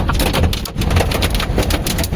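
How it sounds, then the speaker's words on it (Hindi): Hail drums on a moving car on the road to Haridwar, a dense loud clatter of impacts on the body and roof under a constant rumble of driving, close and continuous. "आज भी रास्ते में हम हरिद्वार जा रहे हैं और ओले पड़ रहे हैं।"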